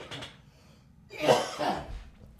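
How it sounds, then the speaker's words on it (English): A person coughs a few times, close and fairly quiet, with a short pause between bursts. "Constant coughing in a podcast."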